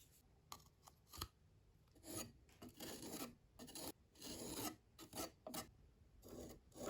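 A wooden surface being filed and sanded gives rasping, scraping strokes in irregular bursts, some short and sharp, others longer rubbing passes, close and fairly faint, with no voices.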